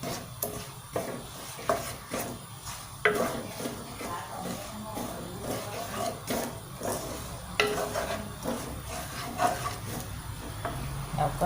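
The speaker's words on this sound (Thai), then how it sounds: "ผัดให้เครื่องแกงแห้งน้ำกะทิแห้งนะ" Curry paste for a Thai jungle-style red curry is stir-fried in coconut milk in a pot, with soft sizzling, scraping and clinking of a utensil against the pan, fairly quiet and steady without talk.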